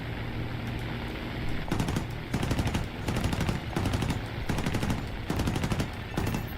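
In War Thunder, .50 caliber aircraft machine guns fire in a series of rapid bursts, each a dense rattling stream of shots lasting about half a second, separated by short gaps over a steady engine drone.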